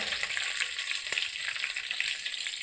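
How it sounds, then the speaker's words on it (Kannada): Curry leaves, ginger and green chillies fry with mustard seeds in hot oil in a pan, giving a steady bright sizzle throughout with one sharper crackle near the middle; no voices. "ಹಸಿಮೆಣಸು ಹಾಕಬೇಕು, ಹಾಕಿ ಫ್ರೈ ಮಾಡಬೇಕು. ಈ ರೀತಿ ಫ್ರೈ ಮಾಡ್ಕೊಳ್ಬೇಕು."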